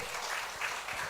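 Audience applauding at an academic workshop session of an international conference, a steady wash of many hands clapping at moderate distance, fairly quiet and without speech.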